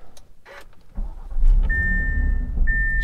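A 2018 Audi RS3 fires up from its push-button start, a short starter whir followed by the engine catching into a low, steady idle, with faint electronic chimes at the start.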